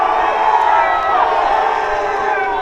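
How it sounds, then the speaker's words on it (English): A lacrosse home crowd of Blue Jay fans at Langhorst Field roars in steady, dense cheering and shouting that holds loud and unbroken throughout. "the Blue Jay crowd making some noise, not happy with that one"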